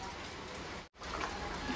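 Rain falls steadily on a rainy morning, a dense even hiss of drops that cuts out briefly for a moment before resuming.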